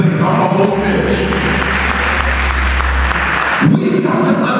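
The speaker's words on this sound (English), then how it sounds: "clap your hands in this place" Church congregation clapping hands together during a sermon, a dense, loud, sustained wash of applause with a low hum underneath, ending abruptly.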